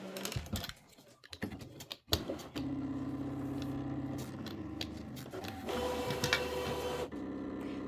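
A fabric cutting machine whirs and clicks as it cuts thin fabric pieces, a mechanical stepping drone broken by short ticks and pauses as the head moves, with no voices.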